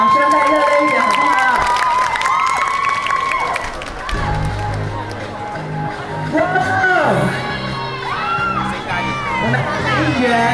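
A street crowd at a K-pop random play dance event in Ximending, Taipei, cheers and claps loudly, with scattered shouts and whoops rising and falling while amplified voices talk over the noise.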